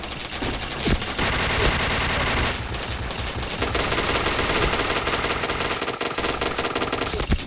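Rapid gunfire from a first-person shooter, dense bursts of automatic fire with sharp individual shots, continuous and loud across the whole stretch with no talk over it.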